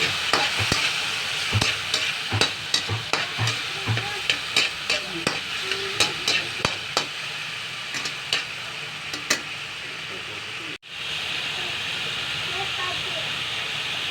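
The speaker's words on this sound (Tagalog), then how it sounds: "Tapos halo-haloin natin." Spoon stirring a Filipino fish soup in a pot after soy sauce goes in, with steady frying sizzle and a run of sharp scraping clinks against the pot for about ten seconds, then continuous hiss.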